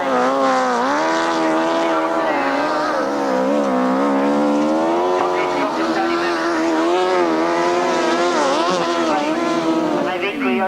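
Grasstrack racing motorcycles come off the bottom bend on the last lap, their engines a loud, sustained, rising and falling whine close by, with a commentator talking over it.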